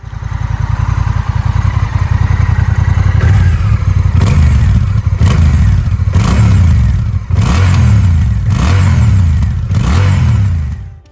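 A Honda CMX 1100 Rebel cruiser motorcycle idles with a deep, steady rumble, then revs hard in a series of loud throttle blips, each rising and falling, close and alone.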